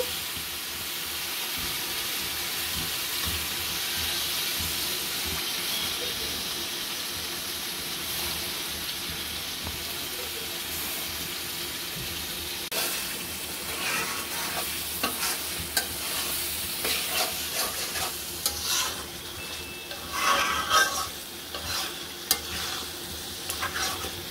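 Goat lung pieces fried in cumin spice masala, with a steady close sizzle running throughout and spatula stirring that grows busier and more clattery toward the end.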